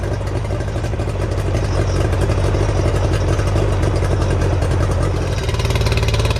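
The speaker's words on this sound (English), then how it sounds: "this is a 30-year-old 2-stroke engine that hasn't been started in a long time" A 30-year-old Nissan Tohatsu NS70 two-stroke outboard, not started in a long time and running on fuel treated with Seafoam, idles loud and close with a steady buzzy, rapid-firing rattle that continues without pause.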